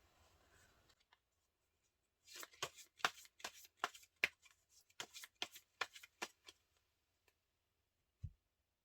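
Close, crisp series of tarot cards being shuffled and drawn, a quick run of papery flicks and snaps after a faint murmur, ending with one soft thump as a card is set down.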